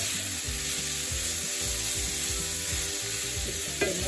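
Vegetables sauté in garlic and olive oil in a pan with a steady crackling sizzle under a low, rhythmic background rumble, ending in a single brief clink near the close.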